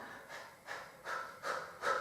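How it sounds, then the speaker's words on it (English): Rhythmic panting breaths during the Pilates hundred exercise, five even puffs about every 0.4 seconds, close and fairly soft with no talk. "Nice big panting breath, so we're going to do this for the count of 100."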